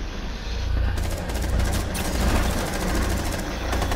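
Sustained automatic gunfire in a Rainbow Six match, a dense rattling barrage of shots over rumbling game ambience, loud and continuous for the whole few seconds.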